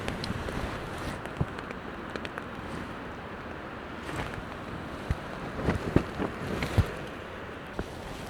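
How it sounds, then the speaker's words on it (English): Gusty wind buffets a tent during a storm at a campsite, a steady rushing roar with sharp flapping bursts and knocks toward the end. "Oh, that's definitely wind."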